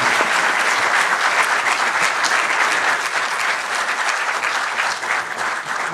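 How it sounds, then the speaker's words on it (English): A large audience at a book launch for a thriller gives a sustained, steady round of applause for the author, dense clapping that carries on loudly for several seconds. "Let's have a big round of applause both for the author and for all of us who've taken out their time"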